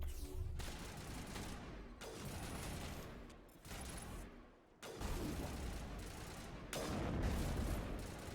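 Heavy crossfire in Mass Effect rattles in dense, sustained volleys of game gunfire, broken by short pauses, loud and close with no talk over it.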